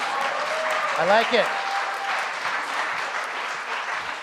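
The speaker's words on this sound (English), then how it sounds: "That's an applause break." Applause from a live comedy debate audience in Toronto runs steadily throughout, with a voice speaking briefly over it near the start.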